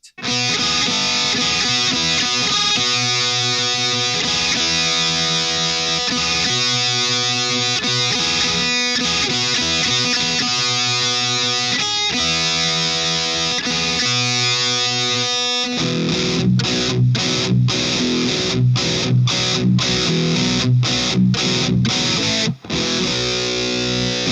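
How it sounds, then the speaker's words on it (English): A heavily distorted electric guitar through a JOYO Hot Plexi distortion and TS808-style overdrive pedal plays thick, sustained chords and chugging riffs, loud and saturated, ending in tight palm-muted stabs with sharp silent gaps. "So let's go with our distortion at noon, and let's introduce the Azor Overdrive TS808."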